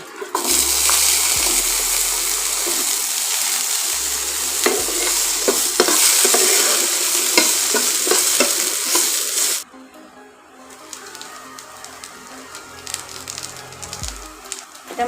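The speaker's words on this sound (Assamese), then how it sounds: "আৰু ইয়াতে মই এই আলুখিনি ফ্ৰাই হ'বলৈ দিম" Potatoes frying in a pan, a loud continuous hiss and crackle with scraping stirs for about ten seconds, then quieter sizzling with faint clinks and a few thumps.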